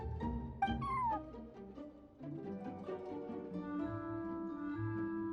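A cat meows a few times amid Genshin Impact game music, the cries clear and close over a steady musical backing.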